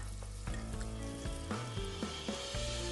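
Scallion, ginger and garlic slices stir-fried in oil left from pan-frying tofu, in a clay pot: a loud continuous sizzle close up, broken by several sharp scrapes of the spatula.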